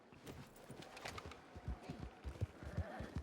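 Quiet, distant hooves clop in an uneven rhythm in a video game, with a faint horse whinny mixed in.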